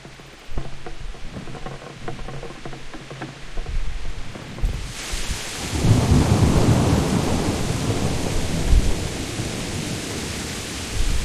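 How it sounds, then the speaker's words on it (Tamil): Heavy rain and rolling thunder from the video game Kingdom Come: Deliverance at night. It begins as a moderate patter, then swells into a loud, dense, steady downpour with low rumbling, and no voices. "பா பயங்கரமான மழை பெஞ்சிக்கிட்டு இருக்கு."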